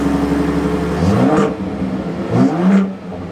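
A 2024 Ford Raptor pickup truck engine idles, then revs up sharply twice with deep roaring surges, close and loud, dropping back to a low idle between.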